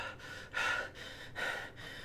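A voice imitates gasping for air with two sharp, breathy intakes about a second apart, close and fairly loud, with no words.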